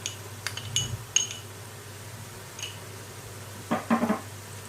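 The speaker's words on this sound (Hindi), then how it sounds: "मिक्स करेंगे इसको" Ginger garlic paste stirred into fried golden onions in a pan: a few light metallic clinks and scrapes of a utensil against the pan, close and sparse, with a short cluster of quick knocks near the end.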